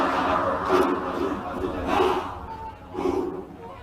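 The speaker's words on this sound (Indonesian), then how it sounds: "para prajurit TNI melakukan yel-yel dalam puncak perayaan HUT" Indonesian TNI soldiers chant yel-yel in unison at Monas during the 78th TNI anniversary celebration, a loud crowd of voices rising in rhythmic bursts over a steady open-air din.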